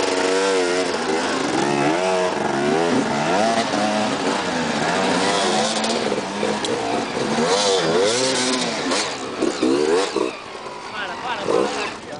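A motorcycle engine revs and roars loudly at an extreme enduro race, its pitch rising and falling repeatedly as it accelerates, with people talking over it.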